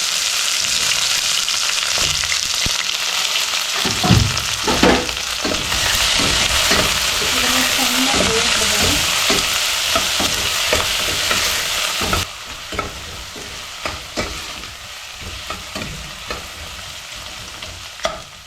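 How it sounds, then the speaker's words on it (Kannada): Onions, green chillies and curry leaves frying for North Karnataka mandakki usli, a loud steady sizzle with repeated stirring scrapes and clinks, quieting after a sudden drop partway through. "ಕರಿಬೇವು, ಈಗ ಆನಿಯನ್ ಹಾಕ್ಕೊಳ್ತಿದ್ದೀನಿ, ಜೊತೆಗೆ ಹಸಿಮೆಣಸಿನಕಾಯಿ"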